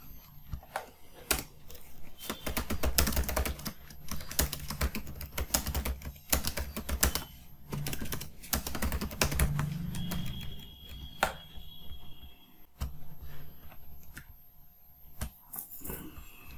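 Text typed on a computer keyboard while writing an article in WordPress: dense bursts of close key clicks with short pauses between runs, steady and fairly quiet, with no talk.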